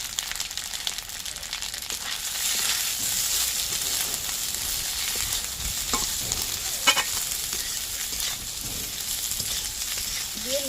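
Spices, fried potato and eggplant, turmeric and salt for a hilsa fish curry are stirred in a hot pan, producing a continuous close sizzle with soft scraping and occasional clicks of the spoon, with no voices.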